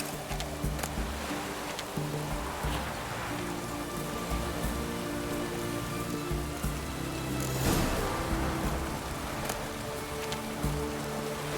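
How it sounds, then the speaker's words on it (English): Rain falls steadily in The Witcher 3, a dense, even patter on surfaces with a low ambient rumble underneath and a brief louder swell partway through. "It's raining, of course it's going to be damp."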